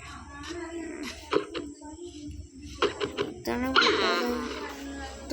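A dog in the Minecraft video game whimpers and yips in short bursts while a young voice talks over it.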